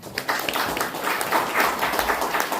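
Audience applause at a Korean rescue-organization ceremony, a dense, steady patter of many hands clapping in an indoor hall, sustained at moderate volume throughout without speech.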